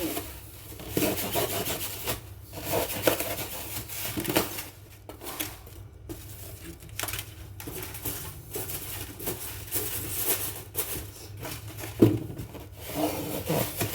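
Repeated rubbing and rasping scrape of a blade cutting through a foam box, sustained and steady over the full stretch with a sharper knock near the end, heard up close in a morning workplace with no talking.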